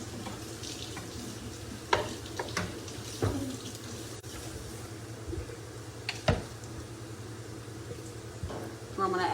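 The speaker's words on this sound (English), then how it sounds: "You see how the onions here are browning? And the bacon's about half cooked." Onions and bacon frying in a pan, a low steady sizzle with occasional utensil clacks and scrapes, heard beneath a person talking.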